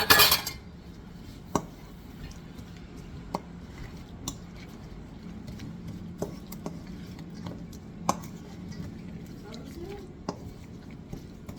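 Soft scraping and light clinks of a utensil against a bowl as onion mixture is stirred into raw all-beef meatloaf mix, quiet and intermittent with occasional sharper taps.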